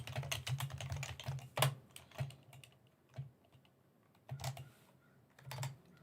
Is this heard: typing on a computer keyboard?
yes